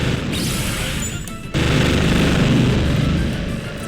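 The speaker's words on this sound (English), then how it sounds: "I hope you like explosions." Loud booming game explosions in the puzzle game Not Another Magic Tower Game, a dense continuous rumble of blasts that jumps louder midway and keeps crashing to the end.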